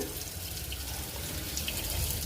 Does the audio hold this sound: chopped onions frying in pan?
no